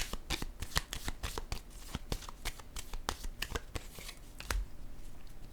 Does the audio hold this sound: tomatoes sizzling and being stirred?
no